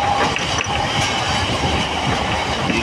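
A passenger train at Mecheda station on a Kharagpur-to-Digha journey, a loud, continuous rumble of wheels and carriages with faint rhythmic clicks and no voices.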